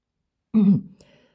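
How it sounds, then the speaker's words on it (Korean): A man clears his throat once, a short rough rasp up close in a quiet room, followed by a faint trailing breath. "그리고 다시 헛기침을 하고는 말한다"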